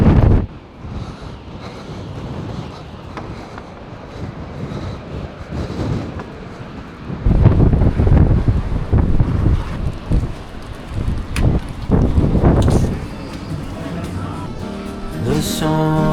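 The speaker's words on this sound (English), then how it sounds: "Windy up here." Gusty wind on an exposed hilltop in the Peak District, loud blustery buffeting that rises and falls in surges, strongest in the middle, with rumbling microphone noise and no talking.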